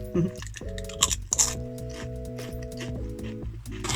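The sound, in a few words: crunching crisps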